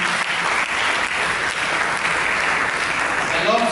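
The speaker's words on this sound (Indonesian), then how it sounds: "Mari kita berikan tepukan." A church congregation claps together in steady, dense applause, close and loud throughout, with no talking.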